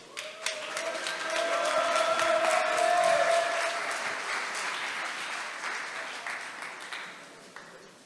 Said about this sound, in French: Je vous donne un tonnerre d'applaudissements pour Samy qui va pitcher Cross the Edges